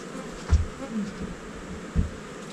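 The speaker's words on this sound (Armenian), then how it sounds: "ահա որ շատ մեղու ունի, ահա որ։" Bees buzzing around honey, a low, faint hum with two brief closer swells as individual bees pass near, with no talk.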